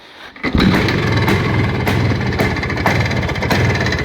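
A Planeta 5 motorcycle engine catches after a brief quiet moment and then runs loud and close, with a steady rough, throbbing exhaust beat that continues to the end.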